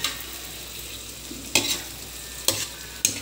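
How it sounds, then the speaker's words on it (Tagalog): Sautéed bitter gourd with egg stirred in a pan, three sharp scraping strokes of the utensil standing out over a steady soft sizzle. "Haluin natin. Half cook lang para mas masarap."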